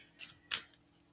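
Tarot cards shuffled by hand, two quick crisp riffling bursts close up and quiet, with near silence between them.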